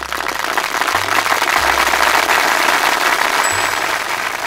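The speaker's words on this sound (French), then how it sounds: "On peut les applaudir." Steady, dense applause from a crowd, a continuous wash of clapping at constant loudness with no talk over it.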